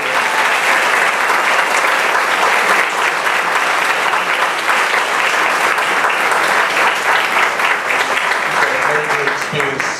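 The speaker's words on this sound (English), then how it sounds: "I'd like in conclusion to ask that we give a round of applause to our faculty members" Graduation ceremony audience applauding faculty members, a dense, sustained roar of clapping from a large crowd filling the hall at high volume throughout.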